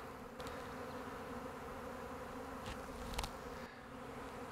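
Upset honeybees from a swarm hum thickly overhead near a tree and hives, a continuous close drone that swells briefly as a few bees pass near, then eases slightly.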